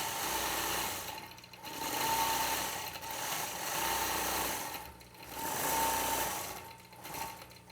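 A sewing machine quilting with variegated thread runs in rapid stitching bursts, its buzzing motor swelling and pausing every couple of seconds, close and steady with no talk.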